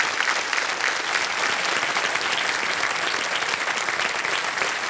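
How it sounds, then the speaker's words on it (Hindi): A studio audience on a quiz show gives a standing ovation, a loud, dense, unbroken roar of clapping that stays steady and close for the full stretch, with no speech over it. "आपके साथ जितने आए हैं सब ताली बजा रहे हैं खड़े होकर।"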